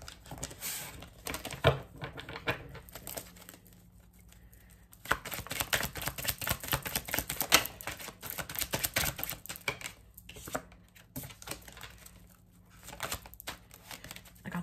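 A deck of cards riffles and flaps in rapid, close bursts of crisp ticking, pausing between shuffles.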